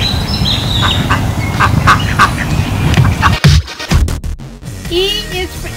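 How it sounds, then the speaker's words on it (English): A duck quacks several times, loud and close, in short repeated calls over a steady background, with a brief synthetic or voiced segment toward the end. "D is for duck."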